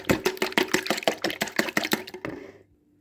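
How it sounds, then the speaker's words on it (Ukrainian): Quick, rhythmic clinking and tapping of a whisk against a bowl, close up, mixing an egg into water for pie dough, about a dozen strokes that slow and fade to silence. "Вінчиком перемішую."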